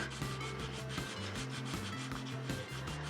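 Sandpaper is rubbed by hand across a part of a Spear XPR56D build near the nozzle stop ring, in quiet, even back-and-forth strokes with no talking.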